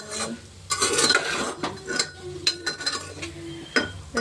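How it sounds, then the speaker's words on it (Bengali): Soaked chickpeas and potatoes are stir-fried for a curry in a pan, with close, rough scraping and rubbing strokes of a spatula and occasional metallic clinks in quick, irregular bursts. "এটাকে ভালোভাবে কষিয়ে নেবে।"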